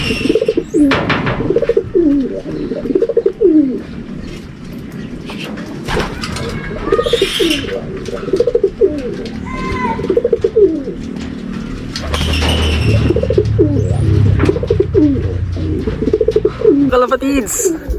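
Pigeons coo over and over in rhythmic, throaty phrases under steady rain, with light chirps and a heavier wash of rain later on, close and clear.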